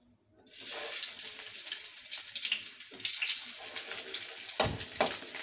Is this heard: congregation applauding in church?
no